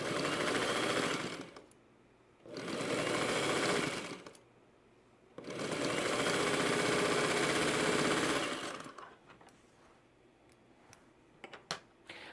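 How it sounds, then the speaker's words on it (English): A sewing machine stitches a quilt in three close, steady runs of whirring with short pauses between them, then a few soft clicks and handling noises as the fabric is readjusted. "You'll notice I'm sewing, stopping, and readjusting every couple inches."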